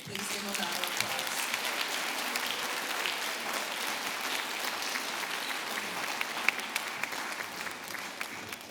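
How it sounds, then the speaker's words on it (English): Audience applause at a high school senior awards ceremony, a sustained dense wash of clapping from a large crowd that holds steady throughout with a few sharper individual claps standing out. "Please give them a round of applause."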